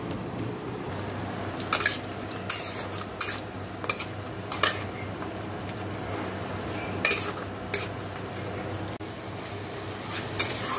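Spices being sautéed in hot oil in a wok, with steady sizzling and frying and repeated sharp scrapes and clinks of a stirring spoon against the pan, close and loud, with no talk.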